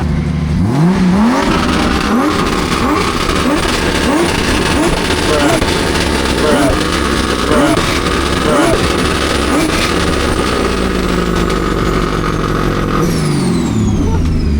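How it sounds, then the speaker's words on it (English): A BMW E36 at a Fuel Fest track event runs loud and close, its engine stuttering and popping with uneven revs while people talk over it. "Why is it misfiring?"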